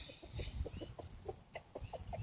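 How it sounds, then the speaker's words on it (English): A rooster clucks in a steady series of short, close calls on a homestead, with soft background noise and no talking. "The rooster's gonna come around,"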